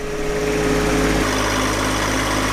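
A compact tractor engine runs steadily at a constant drone while plowing snow from driveways, loud and close with no talk over it.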